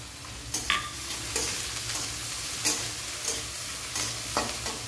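Chopped garlic fries in hot oil with a steady, close sizzle, and a utensil stirs it now and then with occasional scraping clicks, with no voices.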